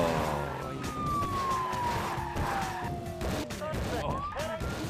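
A police car siren wails in a driving video game, a gliding, falling tone over a roaring engine and tire noise during a chase, steady and close, with a player talking over it.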